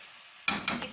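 Chicken karahi fries in a pan after yogurt goes in, a quiet simmer suddenly bursting into loud sizzling with two or three sharp surges, close by.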